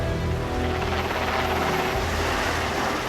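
A helicopter flies close by, its rotor making a loud, steady chopping thrum layered over a whining engine drone for a few seconds, with no voices.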